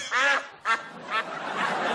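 Three nasal quacks sound close and loud, the first longest, followed by a softer, drawn-out call.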